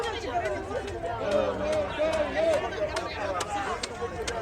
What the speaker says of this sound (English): So yeah, this is a big crowd.